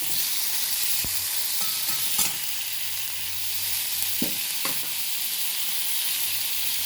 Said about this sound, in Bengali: টমেটোটা একটু নাড়াচাড়া করবো, একটু ভাজা দিয়ে হয়ে যাবে